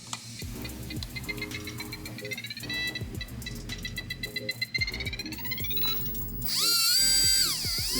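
Two small brushed motors driven by a dual 15 amp beetle ESC whine and buzz steadily, their pitch sliding up and down as the throttle shifts, ending in a sharper high-pitched rising whir.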